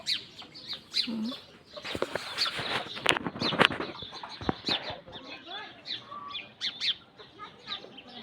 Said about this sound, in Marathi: चिमण्यांचे आवाज बघायला.